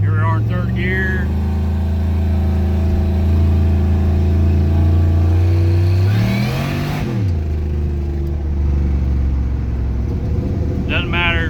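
Supercharged Chevrolet 5.3 V8 truck engine with an Eaton M122 blower pulling hard in third gear, a loud close engine drone that rises in pitch through the clip, with a sharp rev sweep midway and a voice talking over it.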